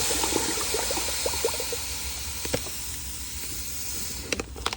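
Warm water pouring steadily into a container to mix sugar syrup for feeding bees, a constant close hiss with a few brief splashes and clunks near the end.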